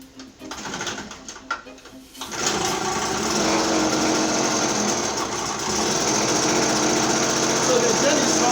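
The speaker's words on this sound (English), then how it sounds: "So we run the generator." A power generator's small engine starts up after a couple of seconds of background sound and then runs at a steady, fairly loud, high-pitched drone until the end.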